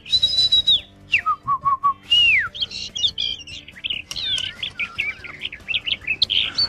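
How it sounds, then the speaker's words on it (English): A small bird in a children's Wiggles western chirps and tweets close up, with bright whistled rising and falling notes followed by a rapid run of busy chirps, no voices over it. "Hey! A bird!"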